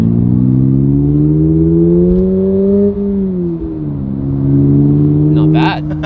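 A 2022 Subaru BRZ sports car revs up hard in first gear, its engine note climbing steadily from inside the cabin, then dips at the shift into second before pulling again. A brief chirp comes near the end.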